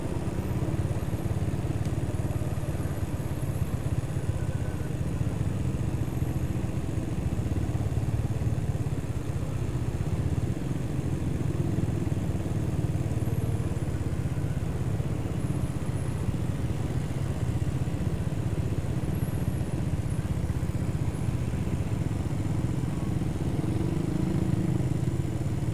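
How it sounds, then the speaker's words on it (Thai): A motorcycle weaves through busy Bangkok traffic along Sukhumvit Road, a constant engine drone mixed with the wash of surrounding cars and road noise, steady and fairly loud throughout with no talking. "ผมก็จะซอกแซกไปตามช่องที่รถมอเตอร์ไซค์สามารถที่จะ"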